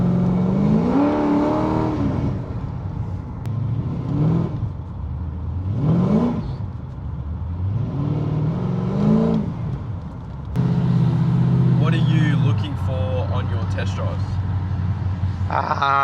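A tuned Holden VT Berlina with an LS1 V8 revs up and settles back several times, rising and falling in steady surges, then holds a loud, rough idle and drone from inside the car.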